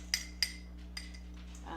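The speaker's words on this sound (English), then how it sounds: "just using a fork to mix it all up" A fork clinks against a mug a few times while mixing mug cake batter, with two sharp taps followed by a softer one and then light scraping at close range.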